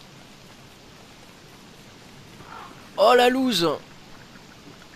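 Rain falls in the survival video game Don't Starve as a constant soft hiss of steady downpour, with a person briefly exclaiming over it near the end.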